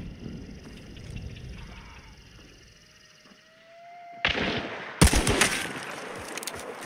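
Gunfire in a shooter game breaks out suddenly after a quiet, humming stretch, with close loud bursts of rapid shots in the final seconds.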